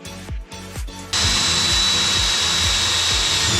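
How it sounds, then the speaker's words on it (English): A power drill bores a hole into a camper trailer for wiring. Several short revving bursts and thumps come first, then the drill runs continuously and loudly with a steady whine and repeated grinding pulses. No talk is heard. "I'm going to start by drilling a hole for the wiring."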